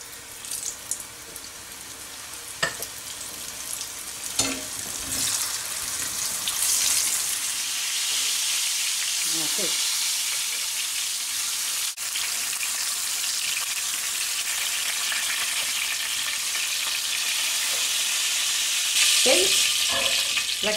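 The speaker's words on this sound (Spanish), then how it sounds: "Cuando el aceite esté bien caliente, le echaremos la carne. La tenemos que freír muy rápido" Beef fillets fry fast in very hot oil in a pan, a steady loud sizzle and crackle that swells as more meat goes in, with a few clinks of a utensil and no talk.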